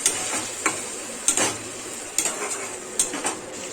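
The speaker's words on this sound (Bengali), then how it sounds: "এবারে হালকা নাড়াচাড়া করে নেব।" Onion paste, tomato paste, slit green chilies, cashews and raisins stirred in hot oil in a pan: a spoon scrapes and knocks against the pan in slow, regular strokes, roughly one every second, over a faint hiss.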